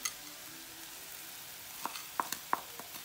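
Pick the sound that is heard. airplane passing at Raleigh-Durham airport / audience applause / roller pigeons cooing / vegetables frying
vegetables frying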